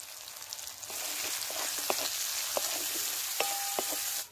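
Spices with chopped tomato, turmeric and chili powder sizzle steadily in a hot pan, with occasional sharp stirring scrapes and taps over the continuous frying hiss; no one speaks.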